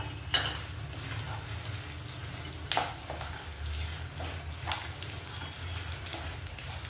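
Tempering for a cucumber pickle sizzling in a pan with coriander seeds, a continuous crackling fry with scattered stirring scrapes and spoon taps against the pan, close, over a low background hum.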